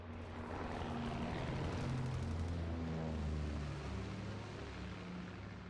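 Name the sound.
enemy recon aircraft flying overhead in a video game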